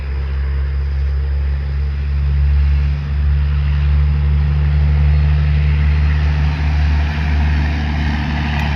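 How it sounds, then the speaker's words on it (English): Truck passing by outdoors, a loud, sustained low engine drone and road rumble that swells gently and holds steady throughout, with no voices. "A truck is passing by."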